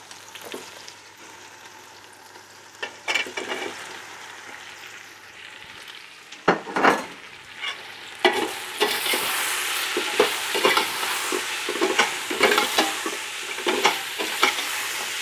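Iberian pork ribs, marinated and fairly dry, sizzle steadily in a pan in a restaurant kitchen, a continuous frying hiss that grows louder partway through, broken by repeated sharp scrapes and clatters of stirring, with no voices.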